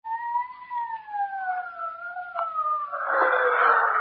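Police sirens wail in a radio drama, two rising and falling tones sweeping steadily and fairly clear, then blurring into a louder, noisier wash near the end, with no talk over them.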